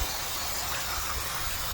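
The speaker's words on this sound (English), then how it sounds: "So now I'm gonna take some brake clean, just spray it" Brake cleaner sprayed onto a Polaris RZR front differential, a steady close hiss of aerosol spray running unbroken and loud until it cuts off at the very end.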